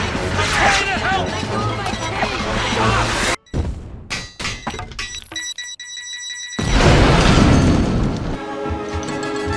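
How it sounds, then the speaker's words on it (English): A bomb goes off on a monorail in an animated cartoon: a loud crash and shattering burst, a sudden cut, scattered breaking clatter, then a second heavy roaring blast, all under frantic shouting voices and music. "There's a bomb!"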